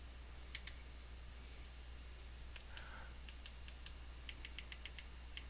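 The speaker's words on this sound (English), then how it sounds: "Make sure I'm clicking the right one." Faint computer mouse clicks and keyboard taps in a quiet room with a low steady hum, a couple of isolated clicks followed by a quicker run of taps near the end.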